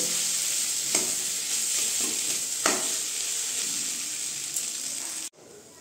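Potatoes fry with chilli, cumin and turmeric powders in a pan with a steady sizzle and a few sharp stirring knocks, close by, ending abruptly; no one speaks.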